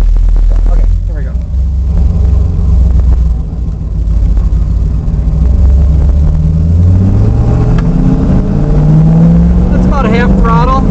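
A 1970 Chevelle SS with a 350 V8 and Holley carburetor pulls at half throttle around 40 to 50 mph, its loud droning engine note rising and shifting from inside the car as people talk over it.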